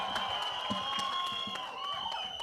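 A live audience at a film trailer launch event cheers and applauds for Sanjay Dutt, with shrill whistles rising over continuous loud clapping and crowd noise.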